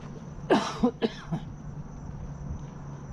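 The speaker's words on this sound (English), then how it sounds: "excuse me for the coughing" A few close, harsh allergy coughs in quick succession, then quiet with a faint steady hum in the background.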